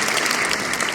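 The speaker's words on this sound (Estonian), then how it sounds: "Teeme šampoanja poissile aplaus" A live audience at a talk-show evening bursts into loud, dense applause, a continuous close wash of many hands clapping throughout.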